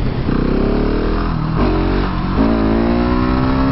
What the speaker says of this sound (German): fahre ich mal eine Husqvarna 701 Supermoto